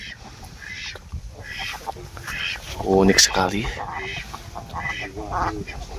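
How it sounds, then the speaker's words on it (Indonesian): Wild ducks near a village food stall in a remote Javanese forest area give a short burst of quacks partway through, close by and loud, while a person talks over the surrounding rural background. "Dan juga ini kita menjumpai ada bebek liar"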